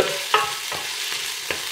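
Carrot and courgette frying in a large pan, with a soft continuous sizzle broken by several sharp stirring scrapes of a utensil against the pan, close and without talk.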